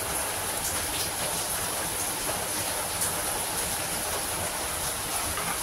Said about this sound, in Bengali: বাইরে খুব বৃষ্টি হচ্ছে আমাদের এখানে, এখন মুষলধারে বৃষ্টি শুরু হয়েছে।